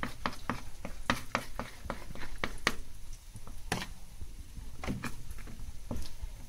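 Cottage cheese patties frying in vegetable oil in a pan, a steady sizzle under repeated sharp clicks and scrapes of a utensil against the pan, no talking.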